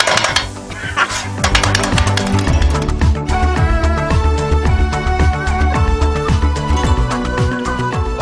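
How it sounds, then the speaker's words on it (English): Metal blades clatter rapidly on a hot griddle while kottu roti, Sri Lankan street food, is chopped at a night stall, a loud, dense, continuous rhythmic clanging with ringing metallic tones throughout. "That's the sound of kotoroti,"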